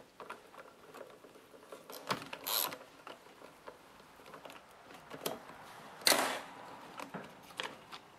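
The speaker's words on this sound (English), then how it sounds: "Now you'll need a 7mm socket to remove these two bolts here." A ratchet with a 7mm socket works on bolts on a lawnmower, producing bursts of quick ratcheting clicks with a couple of louder clattering moments from the tool and metal parts, close and otherwise quiet.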